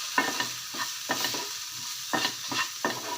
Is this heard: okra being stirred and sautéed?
yes